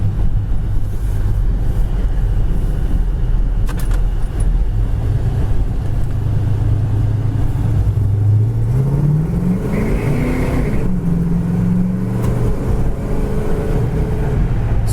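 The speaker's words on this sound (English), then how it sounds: "Car shifts great. It really goes down the road nicely." A 1970 Pontiac GTO drives and accelerates, its engine a loud, continuous low rumble from inside the car with rising revs as it shifts and pulls down the road.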